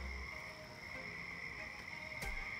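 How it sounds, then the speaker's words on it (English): A chorus of many frogs calls at night near an American toad and gray tree frogs, a dense, steady trilling drone that holds unbroken throughout, moderately distant and with no talking over it. "Actually, you should count all the other frogs back there. You can hear them going berserk."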